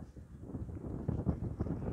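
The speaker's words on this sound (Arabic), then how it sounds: "شوف الهواء، شوف الريح" Wind blowing outdoors on a sunny day, a steady low rumbling buffet against the microphone with faint rustling, no talking.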